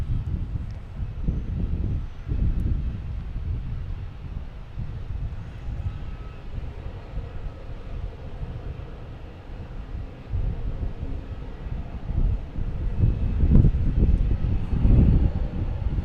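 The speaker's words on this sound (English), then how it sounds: "Here's Delta Airlines, the 175 coming in from Cincinnati, flight 5780" A Delta Airlines Embraer 175 jet arrives at Boston Logan Airport, heard as a low, distant engine rumble buffeted by wind, which swells louder near the end.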